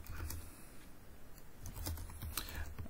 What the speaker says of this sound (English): all you need to do is ask a question and type your question